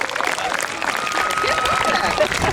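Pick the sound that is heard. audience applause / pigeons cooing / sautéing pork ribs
audience applause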